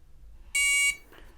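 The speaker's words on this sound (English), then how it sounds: "You'll hear the audible beep when this thing is engaged." A single short electronic beep, clear and fairly loud, sounds once in a quiet setting as a battery engages in an Ingco 20V cordless chainsaw, followed by a soft click.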